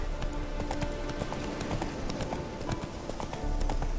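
A horse gallops in The Witcher 3, with fast, even hoofbeats pounding close and loud over a thick ambient game background.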